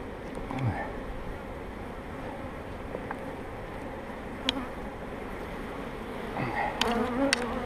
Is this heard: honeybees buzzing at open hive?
yes